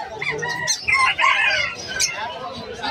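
Nearby chickens cluck and crow in overlapping calls. A hen is among them, and the fowl are loud and close.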